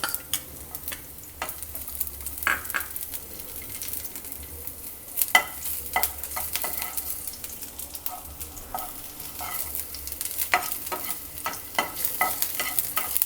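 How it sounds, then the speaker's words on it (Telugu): Ginger and garlic pieces fry in hot oil in a pan, giving a steady close sizzle with frequent scraping, clinking stirs of a utensil against the pan and no talking. "కొంచెం జింజర్ గార్లిక్ పీసెస్ వేసుకుందాం."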